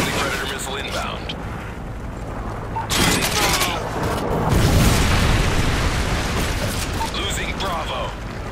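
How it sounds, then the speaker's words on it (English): A Predator missile strike in Modern Warfare 3 lands as a heavy booming blast amid continuous gunfire and rumbling, with radio-style voice callouts throughout. "Friendly Predator missile inbound."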